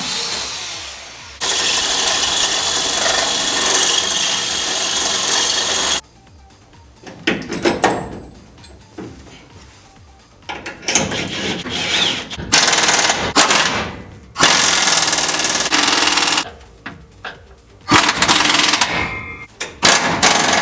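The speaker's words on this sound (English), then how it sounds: "go ahead and drill these holes" A power drill whirs in several loud, sustained bursts separated by short quiet gaps, close by, with clattering between runs, drilling holes to mount truck traction bars.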